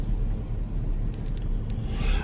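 A green Porsche drives off nearby, a steady low engine rumble with a faint hiss growing toward the end, with no one talking.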